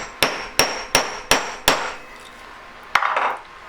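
A metal punch hammered onto a jewellery collet: five sharp, evenly spaced ringing strikes close up, a pause, then one more hit followed by a brief scraping clatter, with no talking.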